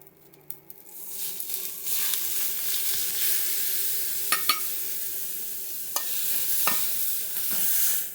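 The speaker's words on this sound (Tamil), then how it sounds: "லோ ஃப்ளேமில் வச்சு இந்த மாதிரி மாவை கிண்டிக்கணும்." Rice flour dough being stirred in a pan over a low flame for paal kozhukattai, with steady scraping strokes, a soft sizzle throughout, and a few sharper spoon knocks against the pan.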